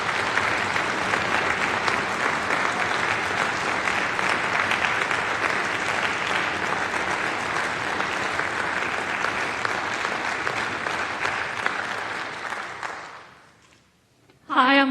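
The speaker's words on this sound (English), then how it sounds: "Let's give them all a big round of applause." Sustained, dense applause from a concert audience honoring graduating high school orchestra seniors, steady and loud for about thirteen seconds before fading out, followed by a brief voice at the end.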